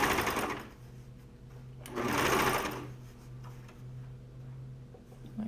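A Brother cover stitch machine hems a neckband and a garment hem in two loud, steady bursts of rapid mechanical stitching. Quieter pauses with a low motor hum separate the bursts.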